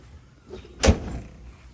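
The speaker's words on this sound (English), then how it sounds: "Lock my doors, got my keys." A single solid door thump as a 1985 Delta 88 car door shuts, with a brief mechanical click of the lock afterward; nearby and otherwise quiet.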